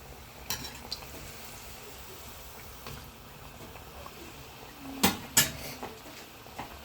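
Spinach vadas are turned over in hot frying oil: a low sizzle with scattered metal clinks of a utensil, then two louder sharp knocks and scrapes against the pan near the end.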